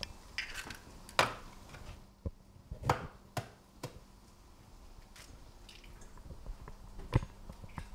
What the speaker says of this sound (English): And you just want to crack the eggs into the bowl like so.